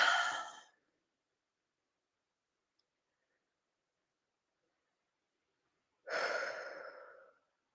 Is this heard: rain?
no